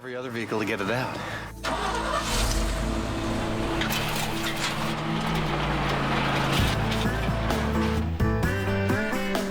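Several engines rev hard and rise together in a sandy setting, with the fleet's smaller vehicles straining to pull the largest truck free of the sand, loud and continuous with voices talking over the noise.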